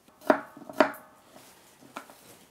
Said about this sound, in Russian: Картофель просто-напросто я нарежу вот такой вот соломкой.